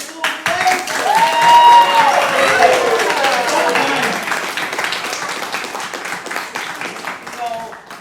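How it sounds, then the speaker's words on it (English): An audience claps for the Blue Blazers in a busy burst of applause that swells and then slowly thins out, while someone talks over it. "Let's hear it for the Blue Blazers. Hey, that's your cue to applaud."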